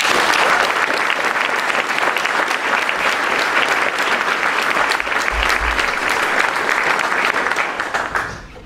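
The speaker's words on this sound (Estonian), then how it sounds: "Aplaus!" A crowd applauds at a high school graduation ceremony, with sustained, dense clapping that runs evenly for about eight seconds before tapering off.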